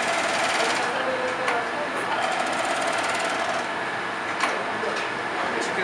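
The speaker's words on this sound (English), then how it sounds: "This is a machine as well that expedites the drying process." Drying machine running in a shoe factory, giving a dense, steady mechanical whir with faint rapid ticking and an occasional clack, fairly loud and continuous throughout.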